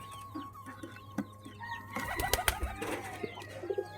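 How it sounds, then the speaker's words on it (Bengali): Pigeons feeding outdoors give soft, scattered cooing and clucking calls, with a busier burst of wing flaps and fluttering partway through, close by and alone. "আর এই যে কবুতরগুলো আজকে বাইরে খাচ্ছে"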